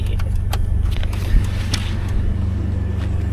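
A Jeep engine idles steadily after a fuel repair, a close, low continuous rumble with a few faint clicks and taps over it.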